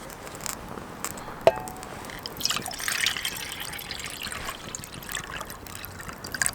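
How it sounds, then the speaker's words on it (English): Water is poured from a cup beside a Swiss volcano camping stove, a quiet trickling and dripping with a few small clinks, soft and close for several seconds. "I'm just going to pour some water."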